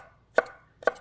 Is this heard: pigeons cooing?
no